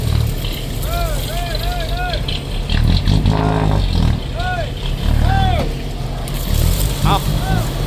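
A ten-wheeler truck engine strains hard while pulling a stuck sugarcane harvester from a field, its loud heavy drone rising and falling in repeated revving surges, with people talking over it.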